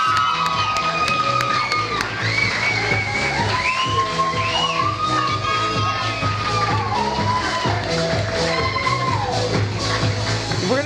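A large crowd at an awards event cheers, whoops and shouts with applause, a dense, loud, continuous roar of voices with high excited calls throughout.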